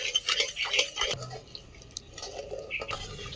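Spoon stirring sugar into boiling papaya syrup in a pot for papaya candy, making soft scraping and clinking sounds with faint bubbling, close up and fairly quiet, with a voice talking over part of it.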